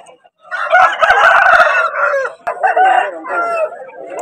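A rooster crows once, loud and close, at a rooster market in Vijayawada. The drawn-out, wavering call is broken by a few sharp clicks and taps, with no talking over it.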